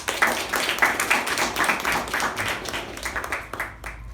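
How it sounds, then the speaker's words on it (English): Audience applause at a club meeting for a member who has just handed over to the MC: a small group clapping with distinct, uneven claps, fairly close, tapering off toward the end. "give Sharanya a big round of applause"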